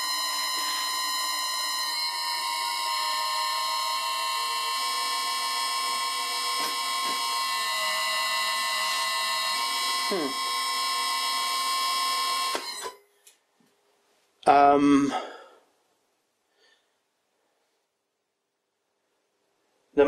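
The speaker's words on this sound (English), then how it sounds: "It's slipping on the big pulley and the small one." An old lathe's motor belt slipping on both its big and small pulleys gives a loud, sustained, shrill squeal for about twelve seconds, then cuts off, followed by one short squawk.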